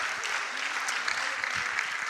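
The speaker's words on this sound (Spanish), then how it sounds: "Ok, denles un aplauso." Audience applause in a church service, a dense, steady wash of clapping at moderate level that holds for the whole moment without a break.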